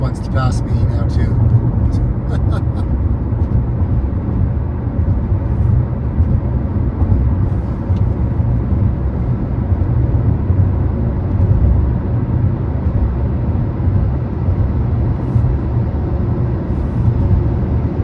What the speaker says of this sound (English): Apparently the dump truck wants to pass me now too.